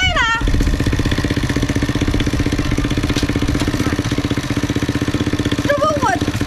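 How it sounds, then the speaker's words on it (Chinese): A motorcycle engine idles roughly and loud close by in a steady rapid putter, while voices are heard briefly at the start and near the end. "这摩托不得劲儿啊！"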